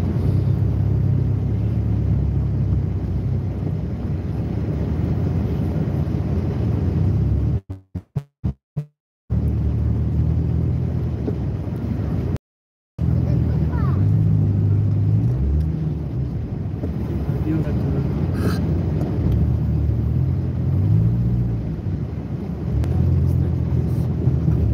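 A car engine rumbles steadily and loudly at low pitch, buffeted by wind on the microphone, with a few abrupt dropouts partway through.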